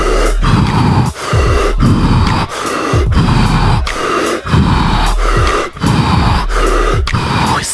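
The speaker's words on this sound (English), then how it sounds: "Keep on breathing deep." Forceful, rhythmic deep breathing during a guided breathwork exercise, heavy inhales and exhales repeating in quick regular cycles, close and loud with no talking.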